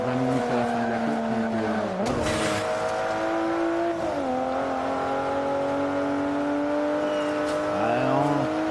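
Racing car engine from the video game Forza Motorsport 5 drones steadily at high revs, with pitch dropping at gear shifts and then climbing again, loud and continuous throughout with a brief burst of noise partway through.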